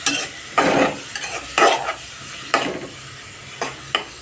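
Onions frying in oil are stirred in a pan for a meal-maker curry: repeated loud scraping strokes, about five, break over a low, constant sizzle, close up.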